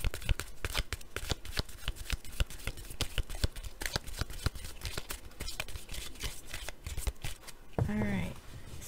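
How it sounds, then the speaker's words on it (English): Tarot cards shuffled by hand in a long run of quick, crisp riffling bursts, close and fairly loud, ending with a short stretch of softer sound. "Okay, one more shuffle."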